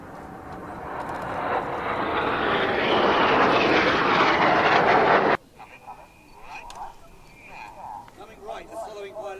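Display team jets pass overhead in close formation, a loud broadband jet roar that builds and sweeps past for about five seconds, then cuts away to quieter background with voices and scattered sounds.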